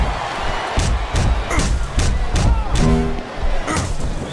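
A capacity crowd at a wrestling event cheers and roars in waves, with sharp thuds and slams punctuating the loud arena din and a voice briefly audible.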